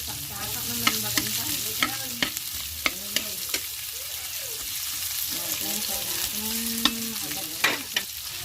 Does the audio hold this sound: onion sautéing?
yes